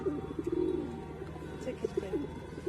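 Pigeons coo in a few soft, repeated low phrases close by, with faint background noise and some talking mixed in.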